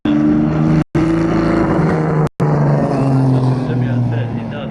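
A race car's engine at a Nürburgring demo day, loud and close, holding strong steady tones with two abrupt cuts as the throttle drops off between bursts.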